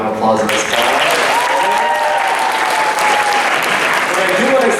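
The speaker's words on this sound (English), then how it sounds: "Let's give everyone a round of applause in this spot." A school talent show audience claps for the performers, a dense burst of loud applause with a few cheers mixed in, sustained throughout.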